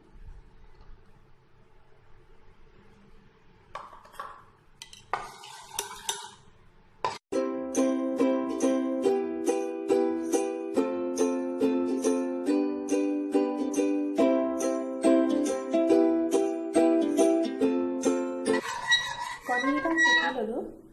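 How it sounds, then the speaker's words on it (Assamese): Two eggs being beaten in a bowl for a pressure-cooker cake, with a steady, rapid series of light clinking strokes that run for over ten seconds, close and clear, after some quieter handling noises. "কণী 2টা ফেটি ল'ম"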